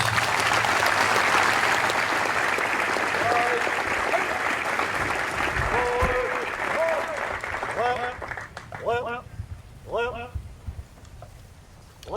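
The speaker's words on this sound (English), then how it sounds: "please join me in giving our awardees another big round of applause" A big round of crowd applause for awardees at a 9th Regiment Advanced Camp graduation, loud dense clapping that thins out over about twelve seconds while voices begin talking over the fading claps.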